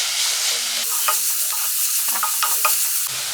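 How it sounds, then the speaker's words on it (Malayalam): Onions with green chili and curry leaves fry in a pan for a fish egg thoran, giving a continuous close sizzle. Repeated light scraping strokes of stirring run through it. "നല്ലൊരു ബ്രൗൺ കളർ ആകുന്നോടം വരെ നമുക്ക് വഴറ്റിയെടുക്കണം കേട്ടോ"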